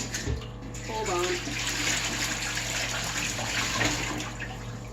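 Tap water running steadily into a sink or tub while dyed yarn is rinsed in vinegar water, a continuous splashing hiss throughout, with a brief clatter near the start.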